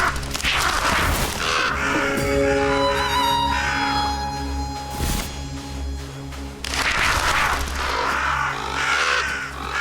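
Crows cawing repeatedly in the video game REKA, harsh calls spread across the scene over a steady game ambience and music.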